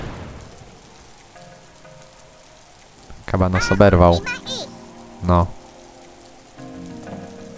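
Steady rain patters and hisses throughout in the video game Worms 3D while someone talks briefly over it, his voice louder than the rain in the middle.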